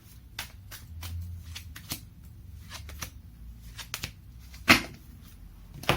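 Oracle cards are shuffled by hand to pull a single card, giving a series of crisp, close riffling flutters and soft taps in irregular bursts, with a sharper snap near the end, no talking over them.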